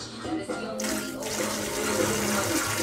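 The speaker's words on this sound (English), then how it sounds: "Gonna wash my hands." Tap water runs steadily into a sink as hands are washed, a close, continuous splashing hiss that starts just after a brief pause and persists throughout.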